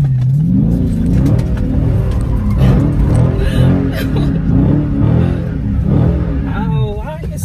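Dodge Charger Scat Pack engine in sports mode revving hard and rising and falling in pitch while the car slides, loud and close inside the cabin with someone talking over it.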